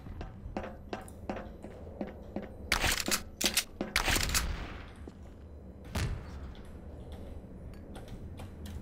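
Gunfire in the Trouble in Terrorist Town game: a run of sharp, evenly spaced shots with a few louder, denser bursts in the middle, heard alone without talk.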